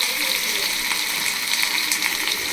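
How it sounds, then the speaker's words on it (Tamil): Sliced onion and curry leaves sautéing in hot oil in a pan, a dense continuous sizzle with crackling spatters and occasional stirring scrapes, fairly close, without voices. "ஆனியன், கருவேப்பிலை போட்டு ஆனியனை நல்லா வதக்கிக்கணும்"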